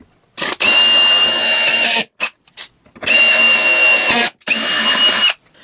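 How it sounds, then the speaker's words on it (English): A power drill whirs in three loud bursts with short pauses between, running steadily at high speed close by, drilling through a storage box to mount a Ryobi Link work surface. "Do not drill this while it's on top"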